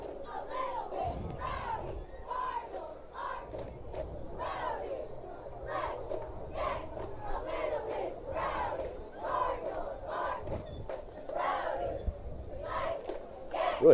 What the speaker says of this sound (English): Really nice crowd on hand.